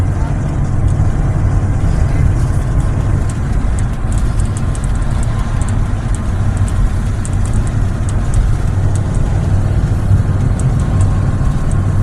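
A car cruises on Interstate 40 through Amarillo, Texas, with steady, loud road and engine rumble and tire noise that holds without a break from start to end.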